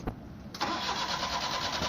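A small 4x4 mini tractor engine cranks briefly, then catches and settles into a steady, loud idle running close by.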